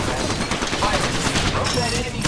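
Dense, continuous weapon fire in the battle-royale shooter Apex Legends, a loud rattling stream of rapid shots filling the whole moment with overlapping bursts and a sharp crack near the end.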